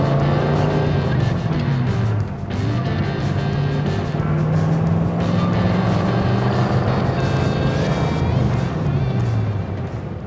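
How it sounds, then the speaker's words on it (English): A small classic car on a test drive through a neighborhood, heard from inside with a steady engine drone and road rumble that rises and falls as it shifts and accelerates. "Okay, here we go on our test drive."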